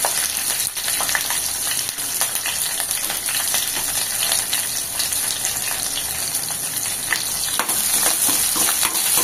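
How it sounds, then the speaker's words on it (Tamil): Curry leaves, green chillies and finely chopped onion frying in hot oil give a loud, steady, crackling sizzle with bubbling spatter that runs unbroken for the whole stretch, with no talk over it. "கொஞ்சம் கருவேப்பிலை, 2 பச்சை மிளகாய் கீரை போட்டு நைஸாக கட் பண்ண வெங்காயம்"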